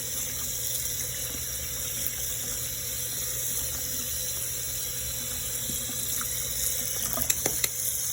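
Water runs steadily from a tap onto a t-shirt soaked for bleach tie-dye, a continuous close splashing hiss with a few small clinks near the end.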